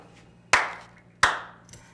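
Two sharp hand claps about three-quarters of a second apart, loud and close in a quiet room, clapped to trigger a clapper light switch, with a faint soft knock after the second.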